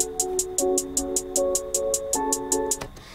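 A trap hi-hat pattern, shortened and looped, ticks in crisp, even bursts over a sustained synth chord that changes partway through, close and clean with no talk.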